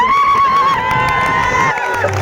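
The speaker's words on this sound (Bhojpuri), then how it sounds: "जोरदार ताली बजा के" A crowd cheers and shouts at a Bhojpuri stage show, a steady loud roar of many voices under a sustained musical tone, with no clear break throughout.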